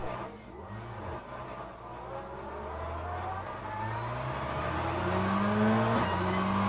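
A race car engine laps a circuit in a sim racing game, its tone rising and falling through gear changes and accelerations, steady and fairly loud with no talking.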